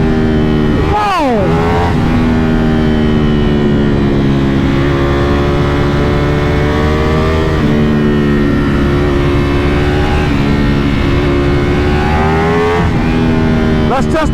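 A Ducati Panigale V4 R sportbike with a V4 engine accelerates hard while ridden, its loud engine note climbing through repeated gear changes with rising and dipping pitch, heard close throughout.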